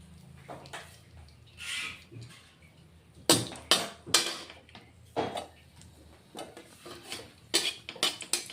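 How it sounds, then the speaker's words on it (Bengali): Two dried red chillies sizzle and crackle in hot oil in a pan, tempering for a fish curry, with sharp bursts of spattering and clinks against the pan in close, irregular pops. "দুটো শুকনো লঙ্কা ফোড়ন দিচ্ছি"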